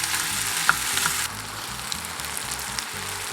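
Potatoes sizzle and fry in a hot pan, stirred and scraped with a wooden or bamboo spatula in steady, close, irregular strokes, with no talk over them.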